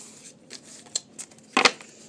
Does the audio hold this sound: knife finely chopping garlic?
no